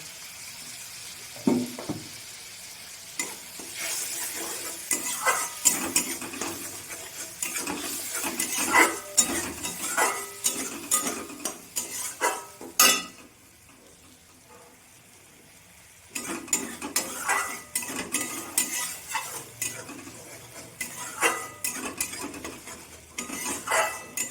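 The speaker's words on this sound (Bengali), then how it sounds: "মশলাটা আমি ভালো করে কষিয়ে নেব" Spice paste fries in a pan for a fish curry with eggplant, crackling and sizzling under irregular stirring scrapes and utensil clinks, with a brief quiet pause midway before the stirring resumes.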